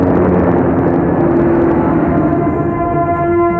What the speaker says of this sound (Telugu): కెప్టెన్ సార్, హెలికాప్టర్ ఫాలో చేస్తున్న ఆ సింహాచలం దారి తప్పాలి.